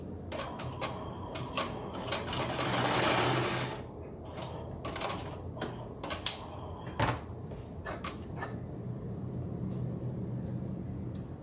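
An embroidery machine stitches the hang tag placement on a quilted stocking in the hoop, running in quick mechanical bursts of needle ticks and clatter with brief pauses, close and fairly quiet.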